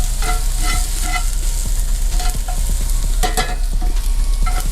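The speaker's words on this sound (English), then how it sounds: "We're gonna wanna get a nice saute on that." Meat browning with oregano in a hot pan sizzles loudly and steadily, with intermittent scraping of a utensil stirring it close by.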